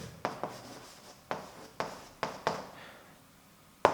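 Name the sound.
handwriting the word abondance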